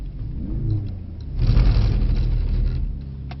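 A Mercedes-Benz C63 S E accelerates at about half power, its engine rumbling low and close, rising and holding steady after a quieter start.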